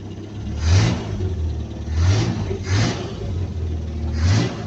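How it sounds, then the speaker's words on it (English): An old Land Rover engine with a blowing exhaust revs four times in quick bursts, each rise rumbling and rasping close by over a steady idle, with no talking. "Yeah, that exhaust is blowing."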